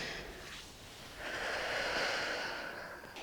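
A person takes a slow, audible breath in at close range, a soft airy rush that swells in the middle and then fades, with no talking.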